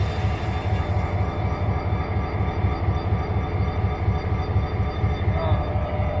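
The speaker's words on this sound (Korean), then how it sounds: "반대쪽에서도 열차가 들어오는데" A train rolls in on the opposite track, its steady rhythmic wheel clatter and low rumble filling the air at an even pace.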